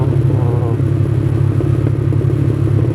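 A motorcycle descends a jungle trail in third gear, its engine a steady close rumble with a rhythmic throb and faint clatter, running without pause throughout.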